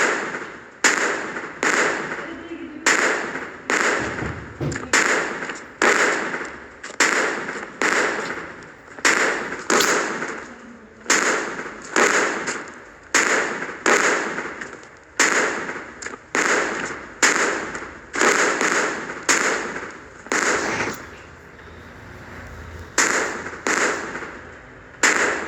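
Explosions in a video game burst out one after another in a roughly regular rhythm, each a loud sharp crack fading quickly, with only brief gaps between blasts and no voices.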